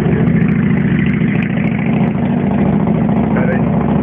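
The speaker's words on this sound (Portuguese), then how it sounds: "Infelizmente vai fazer um barulho um tempinho agora, que eu tô acompanhando a moto." A motorcycle engine runs steadily and loudly nearby, holding a constant droning rumble with no clear revving for the whole stretch.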